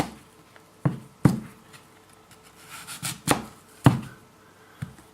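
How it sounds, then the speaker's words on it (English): A knife cutting into a peeled apple to core it, producing a handful of sharp, separate clicks and taps on a board, close up and spaced irregularly, with no talking. "So I will take a knife and just go over the top, make a square cut."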